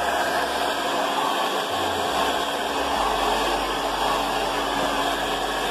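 Handheld hair dryer blowing out hair freshly released from twists, a loud steady whooshing roar held close and unbroken for several seconds, with a faint low rumble shifting underneath and no talk.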